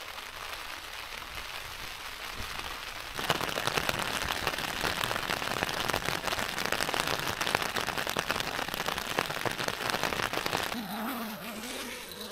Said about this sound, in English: just the sound of rain from now on.